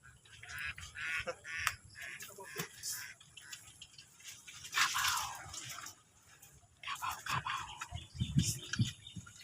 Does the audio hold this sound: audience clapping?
no